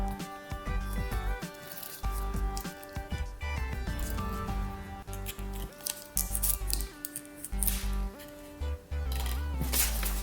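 Leatherman Micra multi-tool scissors snip through a plastic straw in a series of sharp, close cuts and clicks, irregular in rhythm, with brief quiet gaps between snips and no talking.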